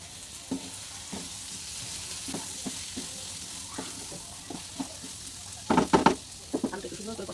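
Potatoes with salt frying in a pan, a soft steady sizzle broken by intermittent scraping and knocking of a stirring spoon, with a cluster of louder scrapes toward the end.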